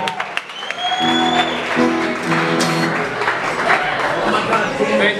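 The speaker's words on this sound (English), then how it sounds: "Let's have a round of applause right now for Professor Green." Audience applause at an evening showdown event for Professor Green, a dense steady clatter of many hands filling the room, mixed with crowd voices and a brief tonal sound early on.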